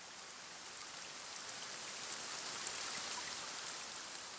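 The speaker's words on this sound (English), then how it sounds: "I know you like rain sounds, Sothan, but it's a bit extreme in this today." Steady rain in the survival game The Forest, a soft even hiss of drops falling without pause and with no talk over it.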